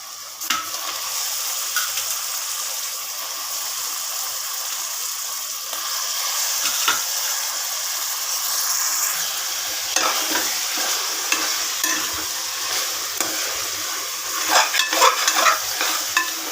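Chicken frying in a pot for biryani, with a steady close sizzle and hiss throughout, broken by scraping and clinking stirs of a spoon against the pot, loudest near the end.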